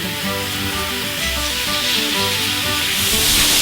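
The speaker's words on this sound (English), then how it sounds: "we can hear the sizzle" Steady broadband sizzle of pork medallions frying in a hot pan, loud and continuous, with a faint low hum underneath and no talking.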